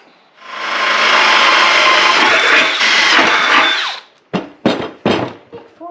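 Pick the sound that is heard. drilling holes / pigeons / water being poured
drilling holes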